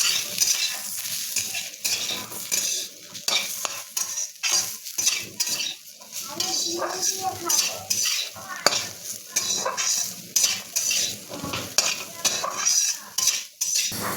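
Potatoes, carrots and chopped green chillies frying in a pan, stirred steadily with a utensil that scrapes and clinks against the metal over a constant sizzle; close and fairly loud, with no talking.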